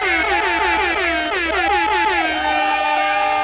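A loud, continuous air horn blares with sliding, wavering tones that rise and fall throughout, no talking over it.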